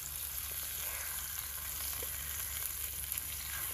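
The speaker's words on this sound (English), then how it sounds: "Cooked them on the fire for a little bit, then he finishes them up in the frying pan." Steak cooked on a campfire is finished in a frying pan outdoors beside a lake, giving a steady close sizzle and crackle of frying that runs without a break.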